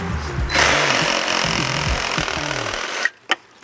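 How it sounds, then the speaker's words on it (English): A Sawzall reciprocating saw cuts through wood outdoors in a sustained, rasping, rapidly pulsing burst for about two and a half seconds, loud and close, then stops with a short clunk. "Look at that sawzall there."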